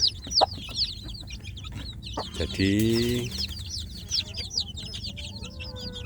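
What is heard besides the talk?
free-range mother hen clucking with her chicks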